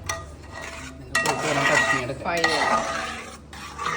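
Palada payasam is stirred in a metal pan with a spoon, giving bursts of scraping and clinking against the pan bottom with brief pauses, close and moderately loud.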